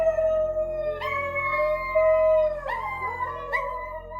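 A small Chihuahua howls close by in long, wavering high-pitched tones, several rising and falling howls in a row with brief breaks between them, no talking.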